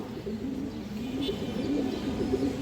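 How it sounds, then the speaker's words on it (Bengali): Soft, low pigeon cooing repeats steadily across the clip over a faint background hiss, with no talking; pigeons include a female Hurricane-line pigeon. "আর একটা হারিকেন লাইনের মাদি কবুতর আছে দর্শক"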